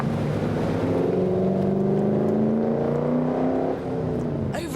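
A 200-mile-an-hour rear-wheel-drive V8 coupe revs close up, a loud continuous engine note with rising and falling harmonics that dips briefly near the end, with no talk over it.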